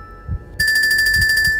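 A telephone rings in an Animal Crossing horror game, a bright electronic trill starting abruptly and pulsing steadily, loud and close, after a couple of low thuds.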